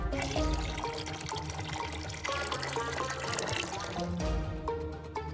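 Water pours steadily into a small LEGO-built washing machine, a continuous liquid trickle and splash running the whole time under a background of music, with no talk.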